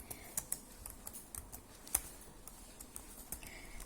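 Someone types on a computer keyboard while writing Python code, producing soft, irregular key taps and a few sharper clicks at a quiet, close level with no talking.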